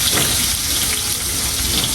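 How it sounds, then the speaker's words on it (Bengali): Cumin seeds, dried chili and chopped garlic sizzle steadily in hot oil, a tempering poured over boiled taro greens, making a dense, close, unbroken crackle with no voices. "দেখো একটা বাগার দিচ্ছি আমি শাকটা"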